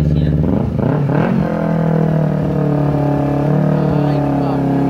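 A Kawasaki Ninja 250R motorcycle engine runs close and loud, a steady humming roar with a few quick revs near the start, then settling into an even drone.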